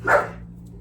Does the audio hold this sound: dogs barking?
yes